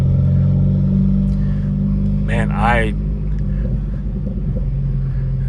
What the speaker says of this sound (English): that exhaust note, that might be for some folks